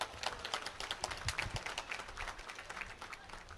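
Dense, steady clapping from an audience at the Yermal Kambala buffalo race semi-final, a continuous patter of many hands at moderate distance with no voices over it.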